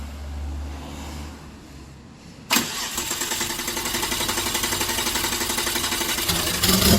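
A Nissan race car project engine cranks briefly after a quiet moment, then fires and settles into a loud, steady, rough running idle that holds to the end.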